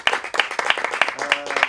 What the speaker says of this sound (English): give a round of applause to Carrie, to Corey, and to Cassie